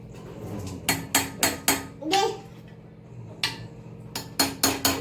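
A metal spoon stirs egg curry in a pot, knocking against the sides in quick rhythmic clusters of sharp clinks, close and fairly loud, with a brief voice in the middle.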